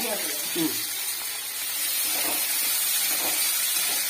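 Garlic, ginger, onion, green chilli and curry leaves sautéing in hot oil with mustard seeds for a stew curry, a steady close hiss and sizzle throughout, with faint voices in the background.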